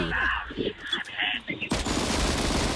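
Rapid automatic gunfire from a light, fast-firing gun in the video game Disorder bursts in loudly after a stretch of excited talk and shouting, then continues as a dense stream of shots.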